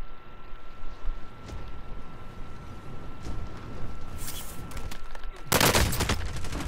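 Gunfire in Call of Duty: Modern Warfare comes as a scattered fusillade of shots, with a dense, loud burst near the end.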